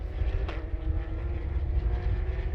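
Race car with a 3.8 litre flat-six boxer engine revving near 8,500 rpm during a race at Chang Circuit, a steady, droning engine roar with one brief rising sweep early on.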